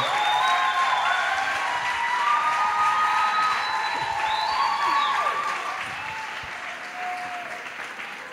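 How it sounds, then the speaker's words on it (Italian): Loud, sustained applause with some cheering from a church audience welcoming a pastor to the stage, filling the whole stretch and tapering slightly near the end. "Accogliamolo con un grandissimo applauso, Pastore Lorenzo."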